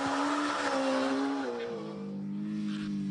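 A Suzuki GSX-R1000's 1-litre four-cylinder engine spins toward 13,000 RPM, a sustained high howl that holds steady, then dips in pitch and settles, heard at a moderate distance without voices.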